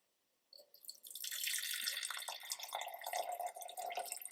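Nettle tea pours from a pan into a container, a steady close trickle and splash of liquid starting after a brief silence and running continuously to the end, with no voices.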